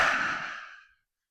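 A single long, deep exhale during a yoga breathing exercise, breathy and close, gradually fading out over about a second with no talking.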